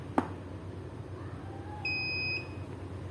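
A Hwato SDZ III electrostimulator gives a single steady electronic beep of about half a second as it resets, preceded by a sharp click from pressing its knob, in a quiet room with faint background hum.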